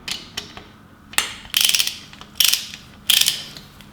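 A large torque wrench ratchets close by while tightening a bolt during assembly of a 5.7L Hemi engine, giving several bursts of rapid, loud metallic clicking separated by short pauses.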